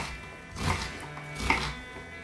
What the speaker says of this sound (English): make several incisions down like that, then cut horizontally through, taking care not to cut through the bottom bit